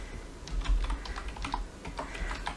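Someone types on a computer keyboard at close range, producing a quick, uneven run of light key clicks and taps with no voices.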